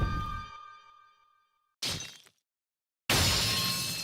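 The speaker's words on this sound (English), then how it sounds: "Why did it just shatter like that?" A medallion shattering in an Ace Attorney video game: a ringing, chiming glass-like tone fades out, followed by two sharp bursts of shattering, one brief and a longer, louder crash after a short silence.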